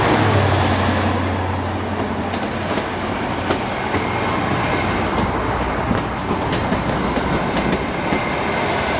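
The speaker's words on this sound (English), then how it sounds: "Class 800 is a lot quieter than the HST" A Class 800 Hitachi IEP train passes close by as a steady, loud broadband rush of wheel and rail noise, with faint rhythmic clicks from the track and no speech.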